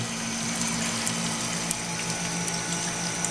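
A toilet tank refills through a newly replaced American Standard fill valve, giving a steady, continuous rush of running water with an even hiss and a low hum, close by and with no voices.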